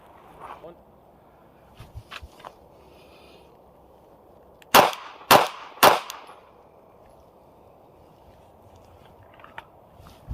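Three loud, sharp handgun shots ring out at a slow, even pace on a shooting range at 7 yards, with a faint voice and quieter clicks before and after.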